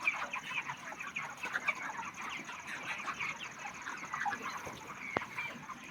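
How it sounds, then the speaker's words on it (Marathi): Broiler chickens packed densely in a poultry shed, a continuous low chorus of overlapping clucks and chirps from many birds at a moderate distance, with no talk. "पहा की दाट दाट पक्षी आहे. पोते पोते पोते आणि पक्षी पक्षी पक्षी."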